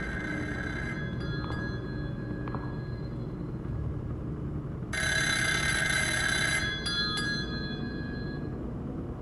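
In the horror video game Party Line, a telephone rings out in bright electronic bursts above a constant low rumble, with a short faint trill near the start and a louder ring later.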